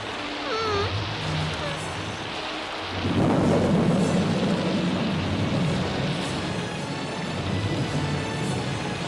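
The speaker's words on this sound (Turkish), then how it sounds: "Fırtınalardan ve şimşeklerden nefret ederim." A thunderstorm with steady rain hiss, where a deep rolling thunder rumble swells loudly about a third of the way in and lingers, heavy and continuous, with no clear talking.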